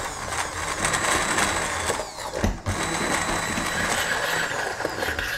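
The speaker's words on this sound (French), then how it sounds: "On va mixer le mélange crème et oignon." A kitchen blender purees a cream and onion mixture for a scallop sauce, whirring in a steady mechanical drone with a brief dip partway through before it runs on evenly.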